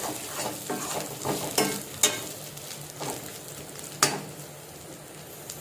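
Ingredients stir-frying in a pan for chukkakura curry, a light continuous sizzle with repeated sharp scraping and clinking strokes of a spatula, close by and without talk.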